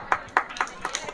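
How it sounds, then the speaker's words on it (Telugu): A small group claps for students at a high school National Science Day celebration, with about five sharp claps in a quick, uneven rhythm, close and fairly loud. "claps go"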